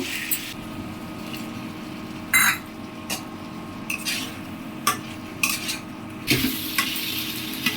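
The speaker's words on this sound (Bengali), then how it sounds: "মাংসটার মশলা কষিয়ে মাংসটা দিয়ে কষিয়ে নিচ্ছে।" Spiced meat is fried in a pan and stirred, with a steady low sizzle under intermittent scraping and clinking of the spoon against the pan, all close by.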